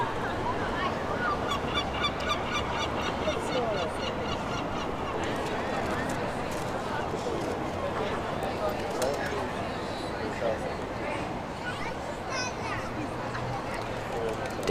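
Ducks honk and quack in a busy cluster beside a river in Porto, a continuous chattering flock heard over steady outdoor ambience and running water, with people talking nearby.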